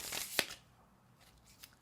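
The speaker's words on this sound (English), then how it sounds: "So I'm gonna shuffle this again," A deck of cards is shuffled in a couple of quick, crisp riffling bursts close to the microphone, then quiet rustling, with no talk.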